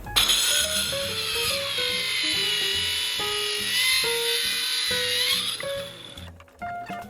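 A power tool saws off a small back plate for a homemade weight bench, running steadily and loudly for about six seconds with a high whine over lower grinding, then cutting out near the end.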